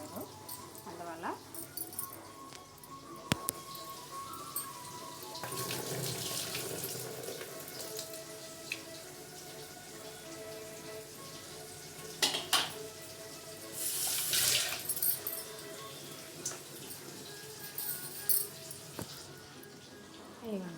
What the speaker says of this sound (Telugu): మటన్ క్లీన్ చేస్తాను. ఒకసారి కడగాలి.